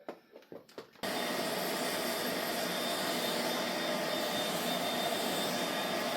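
A dog grooming vacuum clipper runs on suction setting, a steady loud whooshing motor drone that starts abruptly after a second of quieter handling noises and holds evenly to the end.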